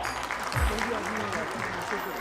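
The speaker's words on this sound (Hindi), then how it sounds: "एक बार जोरदार तालियां" An audience at a spring festival celebration at Raj Bhawan, Uttarakhand gives sustained applause, a continuous wash of clapping with some voices and crowd murmur mixed underneath.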